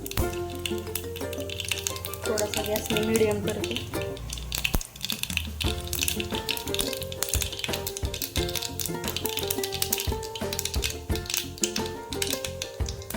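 Mustard seeds fry in hot oil for a tempering for sprouted moth bean curry, giving a dense, continuous rapid crackle of tiny pops up close, with someone speaking briefly and soft music underneath.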